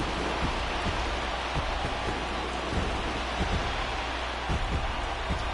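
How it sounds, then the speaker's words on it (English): Steady rain in the MLB The Show 20 baseball video game on PS4, a continuous broadband hiss with faint low rumbles beneath, fairly loud and unbroken, with no talk over it. "No, it's still raining."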